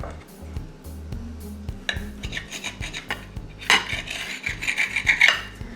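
A knife slices through raw bacon on a cutting board in a home kitchen. Soft scraping and rubbing repeat with light clinks of metal on the board, and a brighter rasping cut comes near the end.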